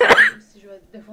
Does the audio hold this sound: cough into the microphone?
yes